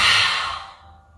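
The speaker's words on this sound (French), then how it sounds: "on ouvre la bouche et on expire tout d'un coup." A single forceful exhale through an open mouth during yoga breathing, a loud breathy rush that fades over about a second.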